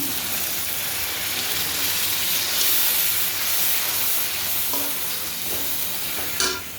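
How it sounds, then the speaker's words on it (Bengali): A steady sizzling hiss as hot water is added to frying spice paste for duck curry, with brief stirring scrapes and clinks near the end. "দিয়ে দিচ্ছি গরম পানি।"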